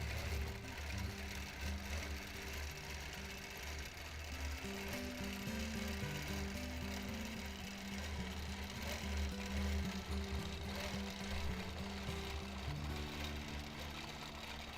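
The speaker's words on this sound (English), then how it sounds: "I'm purposely quilting all down one edge, and then I'll work my way back up, filling that all in" A sewing machine free-motion quilting runs in a steady, fast mechanical chatter, its needle rhythm shifting speed in bursts across the whole stretch with no talking.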